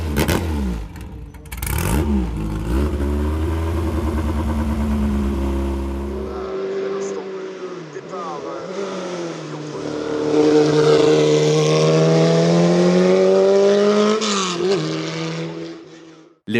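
A Martini Formule Renault Europe historic single-seater race car at a hill-climb championship revs hard, its engine note rising and falling through gear changes, loud and sustained, with a deep idle rumble at the start.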